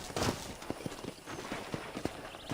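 A horse's hooves clip-clop at a steady walking pace while it is ridden on a ranch in Red Dead Redemption, with the hoof strikes clear and close.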